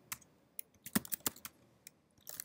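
Keys click on a computer keyboard in a short, irregular burst of typing, quiet and close, with no speech.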